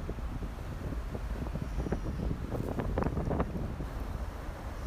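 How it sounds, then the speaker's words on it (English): Strong beach wind buffets the microphone in loud, low rumbling gusts, a continuous roar with irregular bursts and no one speaking. "I don't know if you guys can hear the wind, but it is very windy"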